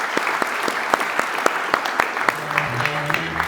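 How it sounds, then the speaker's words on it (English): An audience at the EVOLVE 2025 conference breaks into loud, sustained clapping, with many sharp individual claps close by and brief voices near the end. "So you deserve to give yourselves a round of applause."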